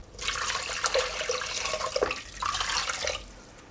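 Water poured from above into a pot where paprika is frying in fat, a steady splashing gush for about three seconds with a short break midway, fairly quiet and with no voices.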